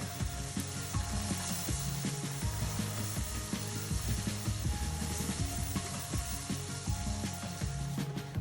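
Butter melts into caramel in a pan for a caramel apple pie, giving a steady close sizzle and bubbling hiss with faint tonal hum underneath, quiet and continuous throughout.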